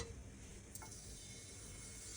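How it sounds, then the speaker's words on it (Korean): Oil heating in a pan for frying fish cakes, with a wooden chopstick dipped in to test the temperature, gives a faint, steady sizzle and fine bubbling with no talking. "이 기포 올라오죠? 그러면 튀기기 딱 좋은 온도입니다."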